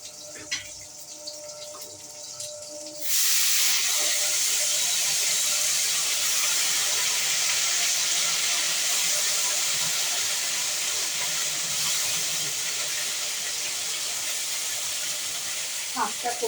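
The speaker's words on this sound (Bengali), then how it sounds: "শাকটা করে নিলাম, শাকটা বসিয়ে দিয়েছি।" Leafy greens in a pot on the stove start a loud, steady steaming hiss after a few seconds of quieter kitchen sounds, and it carries on without a break to the end.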